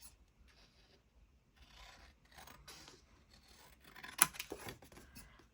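Scissors trim the sides of a paper craft card, making quiet, close snips and rasping cuts in short bursts, with the loudest cut near the end.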